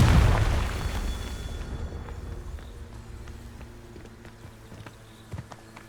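A Confringo fire spell in the video game Hogwarts Legacy goes off as a loud booming explosion at the start, its rumble decaying over several seconds into quieter game sounds.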